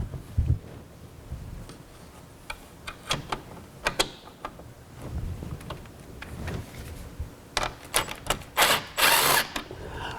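A power drill driving self-tapping screws while mounting a UV water system, with short bursts of whirring and ratcheting clicks, handling knocks in between, and a louder run of drilling toward the end.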